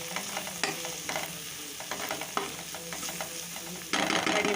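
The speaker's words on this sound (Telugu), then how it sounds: "ఆనియన్స్ దీంట్లో బాగా కలుపుకున్నామండి" Onions fry in hot oil while being stirred, a continuous sizzle broken by repeated spoon scrapes and knocks against the pan, growing louder near the end.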